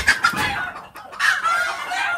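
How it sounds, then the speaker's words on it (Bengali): Hens in a poultry coop with newly hatched chicks cluck loudly and insistently up close, two agitated bursts separated by a brief pause. "আর মুরগি অনেক শব্দ করতেছে"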